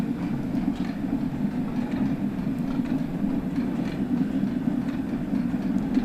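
A Stainer 8F steam locomotive in Train Sim World 2 runs steadily, giving a continuous low rumble of rolling rail noise with faint clatter throughout, close and unbroken, with no voices.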